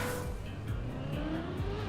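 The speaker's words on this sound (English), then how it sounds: "he's pressing the accelerator all the way" Race car in the Trackmania video game accelerating with the throttle held fully down, a steady loud engine drone with rising pitch sweeps and faint tire squeal, heard alone without talk.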